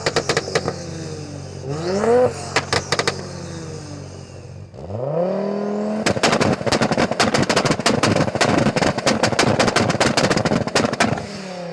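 A tuned Audi S2 with a five-cylinder turbo and an Audi S5 with a V6 turbo are revved hard one after the other. Sharp throttle blips and engine sweeps are broken by rapid, loud crackling pops from the exhaust, with no talking.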